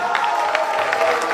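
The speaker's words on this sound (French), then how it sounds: "Les amis, les jeunes, applaudissez pour Matete." An audience cheers and claps for a singer at a talent audition in Kinshasa, a steady wash of applause and crowd noise filling the brief moment.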